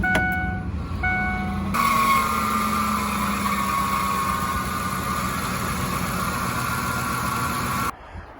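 A car engine being checked for a squealing belt and a grinding, whining metallic noise starts after a few chime tones, then runs with a steady loud hum and whine for about six seconds before cutting off.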